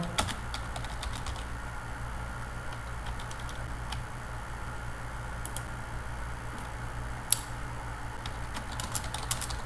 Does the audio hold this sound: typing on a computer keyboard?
yes